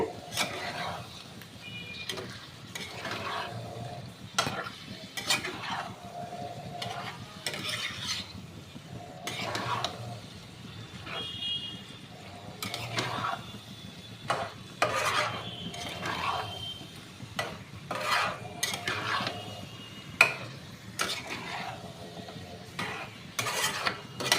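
Boiled jackfruit being stirred in a pan for a jackfruit and prawn curry, soft scraping and rasping strokes of a spoon against the pan repeating steadily, close and moderately quiet with no voices.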